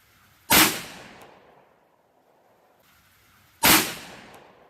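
Two sharp, loud .38 Special gunshots from a Rossi .357 Magnum revolver (972 / RM66), about three seconds apart, each with a brief ringing decay and no talk.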